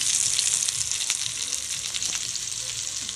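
Fish sizzles and crackles steadily in a frying pan, a bright hiss close by with small pops and scrapes, no talking.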